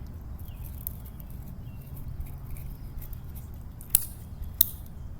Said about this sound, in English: So I am going to cut a small piece here.